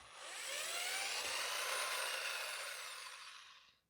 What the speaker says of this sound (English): we're going to take the first one out with a drill screwdriver